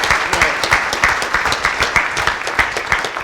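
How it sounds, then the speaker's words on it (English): Audience applause honoring river keepers at a Spokane city event, a steady wash of many hands clapping with a busy, slightly pulsing texture throughout. "let's give river keepers a round of applause"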